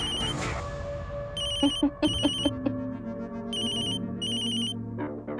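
A telephone ringtone in a Marathi TV drama scene plays in short, bright, repeating melodic bursts, two pairs separated by a pause, over a low steady background hum.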